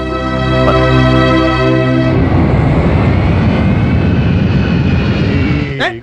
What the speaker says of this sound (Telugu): విమానం వచ్చే టైం అయిపోయింది.